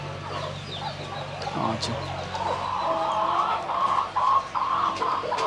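Fayoumi Tiger and Australorp chickens on a small farm cluck and call steadily at moderate distance, with a few sharper squawks toward the end, under brief nearby talk.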